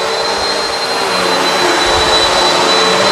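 A Bissell CleanView Swivel Pet upright vacuum cleaner runs continuously during whole-house vacuuming, a loud steady whine with a thin high tone, alone without voices.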